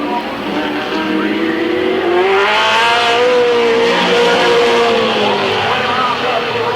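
Race cars roar around Midvale Speedway at a 1995 event, engines loud and continuous with shifting pitch as they pass close by, while a track announcer talks over the noise.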